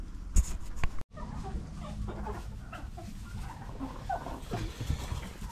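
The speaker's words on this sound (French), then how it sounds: "Là, ce sont les poulets de chair." A flock of 56 broiler chickens on a small farm clucks and murmurs steadily at moderate volume, a soft overlapping chatter of many birds, with a couple of sharp knocks near the start.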